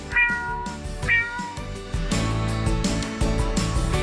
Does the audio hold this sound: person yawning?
no